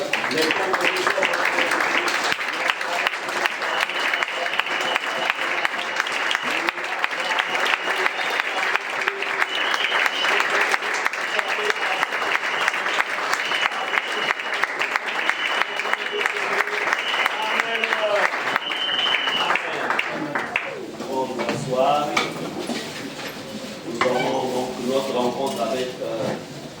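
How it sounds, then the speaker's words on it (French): A church congregation claps loudly and steadily for about twenty seconds during a worship service. The applause then thins into scattered claps, with voices heard toward the end. "Pour vous lever, on acclame Jésus pour les dons que vous êtes"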